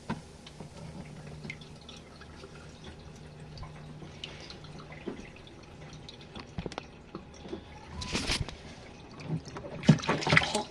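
Hot water draining out of an RV washing machine after a rinse, a soft trickling wash with louder gushing splashes near the end, close by and with no talk.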